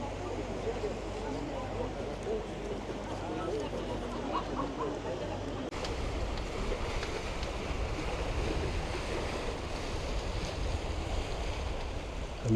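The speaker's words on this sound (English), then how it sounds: "And this is Poniente Beach from a different angle" Waves wash steadily onto Poniente Beach in Benidorm, a continuous broad surf roar with wind buffeting the microphone, growing slightly fuller partway through.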